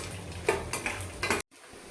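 A spatula clatters and scrapes in a pan as dried red chilies, mustard seeds, cumin and chana dal temper in hot oil for gongura-amaranth chutney; a few close metallic stir strokes over a faint sizzle, then sudden silence.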